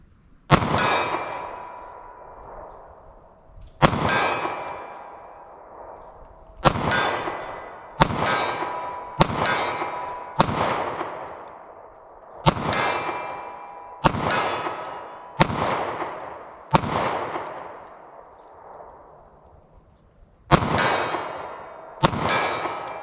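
Federal Syntech Defense 9mm pistol rounds fired at a target forty yards out, about a dozen sharp, loud cracks with ringing decay, spaced unevenly across the stretch, some in quick pairs, with no talking.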